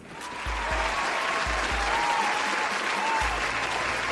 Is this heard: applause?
yes